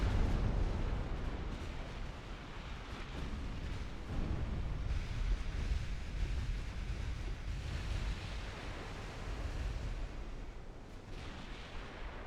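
Naval gunfire in a naval warfare video game set in a 1921 Ottoman campaign, with ships firing at enemy cruisers. It comes through as a continuous, dense roar of rumbling cannon blasts that overlap without a break, and no one speaks.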